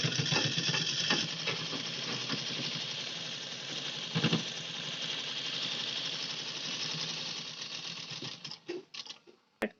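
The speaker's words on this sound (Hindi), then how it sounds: "काज पट्टी पे पलट कर सिलाई लगाऊंगी।" A sewing machine runs a steady stitching line along the buttonhole placket of a blouse, a continuous close mechanical whir for about nine seconds that stutters and stops near the end.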